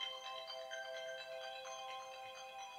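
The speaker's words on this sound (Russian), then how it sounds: "Сейчас будет звонок." iPhone ringing with an incoming call, a quiet tonal ringtone pattern repeating steadily for a few seconds with no talking over it.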